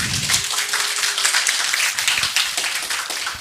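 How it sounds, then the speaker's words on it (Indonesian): Audience at a campus stadium general lecture applauding, dense continuous clapping from many hands at moderate distance, steady through the whole stretch with no talking. "Boleh tepuk tangan yang meriah untuk Pak Saiful."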